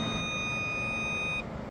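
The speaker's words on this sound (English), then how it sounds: "That beep didn't sound good." An HL15 server gives a steady high-pitched warning beep that holds for more than a second over loud fan noise, then cuts off while the fans keep running briefly.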